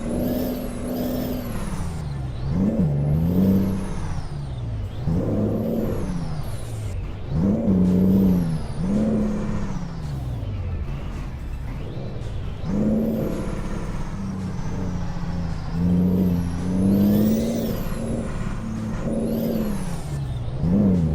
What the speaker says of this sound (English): I'm really not sure that I like the sound of this engine at all.